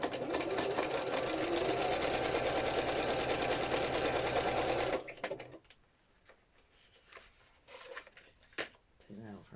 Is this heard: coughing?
no